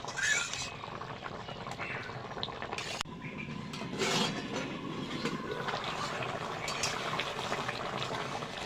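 A covered pot of pangas fish and potato curry simmering, giving a faint, steady bubbling hiss with a few soft knocks from the lid or pot; no voices.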